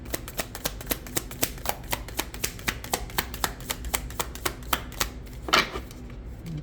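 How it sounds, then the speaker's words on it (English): Tarot cards being shuffled, a rapid even run of crisp riffling clicks close by, ending in a softer brush of cards, with no voices. "I'll do this one more shuffle."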